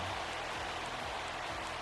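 Steady rain hisses evenly throughout a rainy College Football 26 game between South Carolina and Florida State, a dense, constant wash of fine drops with no voices over it.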